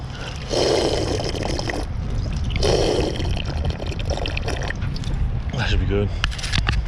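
Water poured from a bottle in bursts, a couple of gurgling pours with breaks between, outdoors on a fixed gear bike ride with wind noise, followed by a voice speaking.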